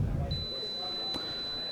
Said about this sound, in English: our body packs make a beeping sound